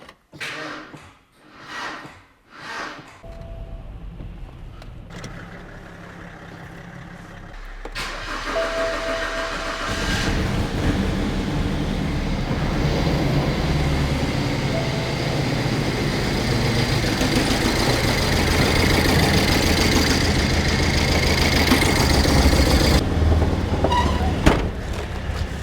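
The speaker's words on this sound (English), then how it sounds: "Okay, let's try to crank it, I guess." A BMW E92 320i with a suspect engine cranks in several rhythmic starter bursts, pauses, then catches and settles into a loud, continuous idle close by.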